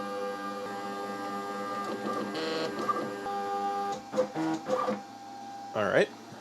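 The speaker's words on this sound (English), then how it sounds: "I'm going to home the machine to make sure everything is where it should be." A CNC machine homes its axes: steady motor whine and hum with stepped tonal shifts as each axis travels, followed by brief clunks and a rising sweep near the end, recorded close by with no talking.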